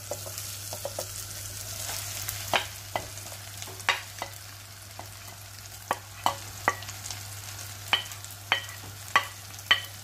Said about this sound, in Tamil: இதோட இந்த மீனை மிக்ஸ் பண்ணி வச்சுருக்கிற மீனை சேர்த்துக்க போகிறோம்